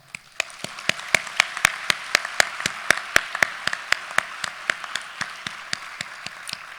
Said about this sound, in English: I would like us to give a round of applause to the life of Joel Gustav Nana